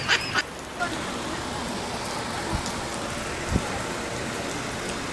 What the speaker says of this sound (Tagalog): Kasi maulan